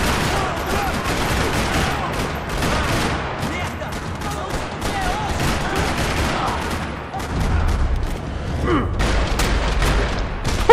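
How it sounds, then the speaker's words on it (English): Dense, continuous gunfire in a video game parking lot, rattling bursts and booms layered close and loud with almost no pause, and voices faintly under it. "Another parking lot rattling with gunfire."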